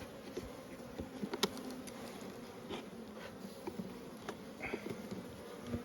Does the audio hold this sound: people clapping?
no